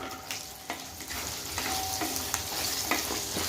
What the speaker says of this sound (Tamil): கொஞ்சம் வதங்கட்டும் வெங்காயம்